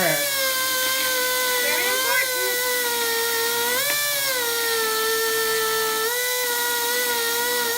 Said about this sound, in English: We're going to grind down inside that crack.